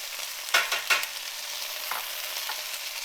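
Brussels sprouts sizzling in a hot pan as glaze is poured in, a bright continuous hiss with a few sharper bursts of spattering as the sprouts are stirred, close up and without talk.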